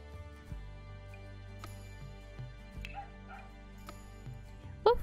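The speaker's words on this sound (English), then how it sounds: "Dog?" Dog barking in The Sims 4, with repeated soft yips and woofs over steady game music and ambience, plus a brighter yelp near the end.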